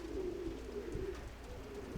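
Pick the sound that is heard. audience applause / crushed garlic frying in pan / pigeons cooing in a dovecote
pigeons cooing in a dovecote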